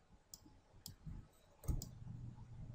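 A computer mouse being clicked while working in Autodesk Inventor assembly software, a few faint, sharp single clicks spaced apart in a quiet room.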